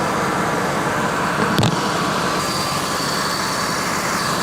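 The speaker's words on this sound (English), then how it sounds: "got the truck running, AC on high" A 1998 Ford Expedition Eddie Bauer 4x4 with a 5.4L engine idling with the air conditioning on high, a steady loud close engine drone and fan hiss, with one brief click partway through and no talk.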